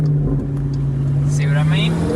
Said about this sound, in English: Oh, mad downshifts.